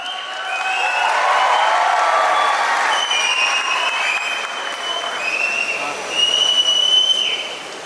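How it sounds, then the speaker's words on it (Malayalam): A crowd at the Thrissur Magic FC launch event applauds actor Nivin Pauly as brand ambassador: steady, dense clapping holds for about eight seconds, with a few high whistle-like tones riding over it and a brief swell near the end. "കൈയടി നമ്മുടെ നിവിന്"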